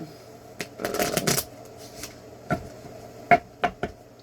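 A deck of divination cards is shuffled nearby, with a burst of riffling followed by several separate soft slaps and taps of cards in a quiet room.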